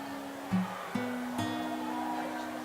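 A synthesized guitar through a guitar-amp effect holds steady notes, with a few pitch changes and plucked attacks, moderately loud and without any voices.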